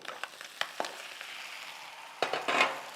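Spaghetti tossed and stirred through rendered bacon fat in a pan for carbonara, giving a soft steady sizzle broken by brief scraping and clattering strokes, loudest near the end, with no voices.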